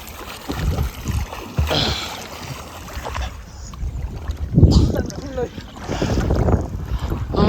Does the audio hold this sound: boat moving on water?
yes